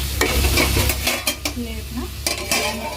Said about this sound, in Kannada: ಈಗ ಚೆನ್ನಾಗಿ ಫ್ರೈ ಆಗಬೇಕು